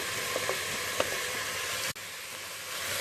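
Drumstick pieces, sambar onions and green chilli pieces frying in oil for sambar, giving a steady, close, even sizzle with a few faint stirring ticks and one brief dropout.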